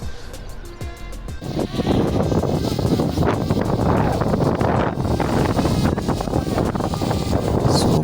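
Strong wind at a hilltop fort buffets the microphone with a loud, continuous rumbling roar, rising sharply after a quieter opening second.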